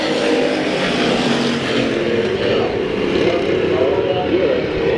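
Hobby stock race cars starting an eight-lap heat at Bakersfield Speedway, a dense, loud roar of several engines blending into one continuous drone, with a slight rise and shift in pitch toward the end.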